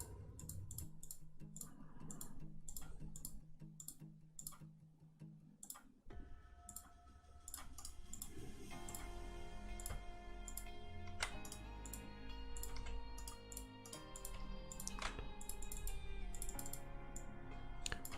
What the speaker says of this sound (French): excusez-moi pour les clics de souris, je pense que ça doit s'entendre assez fort